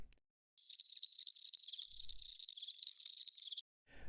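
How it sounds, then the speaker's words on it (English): Crickets chirp in a dense, high, buzzing trill that starts abruptly and runs for about three seconds before cutting off, with a faint low thump partway through. "So I'm going to turn the volume of my crickets way down"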